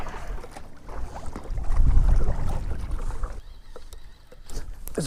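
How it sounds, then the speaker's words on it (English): Wind gusts buffet a fishing boat on a cold fall lake in Central Maine while bass fishing, a loud, rumbling roar rising and falling close to the microphone, with faint creaks and water sounds and no talk. "This wind is making it very difficult to fish."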